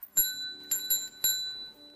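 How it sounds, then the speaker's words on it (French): Old food bell in an abandoned manor rings in a few sharp metallic strikes, each leaving a bright ringing tone that decays, with uneven gaps between hits, fairly close and alone. "La cloche de nourriture."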